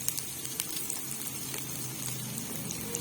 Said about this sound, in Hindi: ये हमने डाल दिया प्याज को हम हल्का ब्राउन करेंगे।